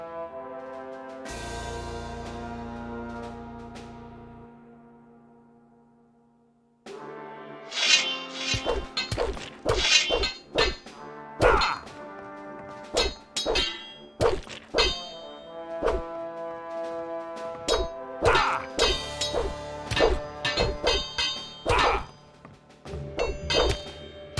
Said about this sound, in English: they're smashing each other's skulls